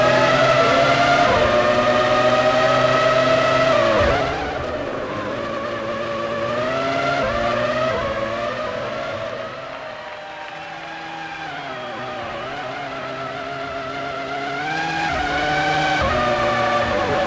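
Formula One cars in the F1 2003 game at the Austrian Grand Prix, a Williams among them, with high revving engines whining and shifting pitch as they touch and skid, loud and continuous.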